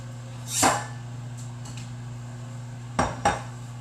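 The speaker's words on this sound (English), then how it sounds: "You just push that in there and you just slice them" Grape tomatoes are sliced in a handheld tomato slicer press, giving a clattering plastic-and-metal clack near the start, then two quick sharper clicks close together toward the end over a low steady hum.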